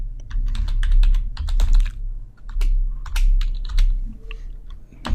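Code being typed on a computer keyboard for a C# console app, a busy run of quick key clicks in irregular bursts with brief pauses, close and clear with no voices.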